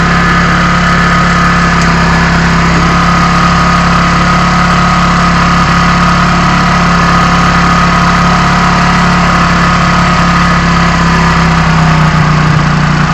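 A motorcycle engine idles steadily and loudly up close at fairly high revs while its carburettor air screw is adjusted, a constant droning hum with no talk.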